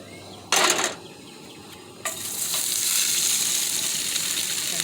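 Oil heating in a frying pan before kielbasa goes in, with a short burst of clatter followed by a rising, steady close sizzle and no voices.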